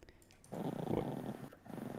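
A dog gives a low, rumbling growl up close, rising into a sustained throaty snarl over about a second before easing off.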